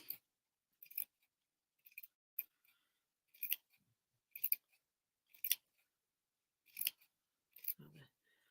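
Crisp fabric scissor snips cutting felt in short bursts, roughly ten cuts spaced irregularly with quiet pauses between, close and fairly quiet.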